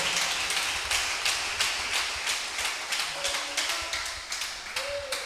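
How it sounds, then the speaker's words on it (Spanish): Church congregation applause during a Spanish-language service, heard as loud rhythmic clapping in regular unison beats, steady and close throughout. "¿Cuántos podemos regalarle un aplauso al Señor, al Espíritu Santo que esté en este lugar"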